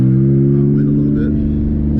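An Infiniti G37 fitted with exhaust cutouts gives a deep, steady, loud droning exhaust note that holds at an even pitch, close by, with a faint voice in the background.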